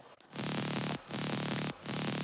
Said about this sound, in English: which is just like a saw and white noise to just, yeah, I guess fill up more frequencies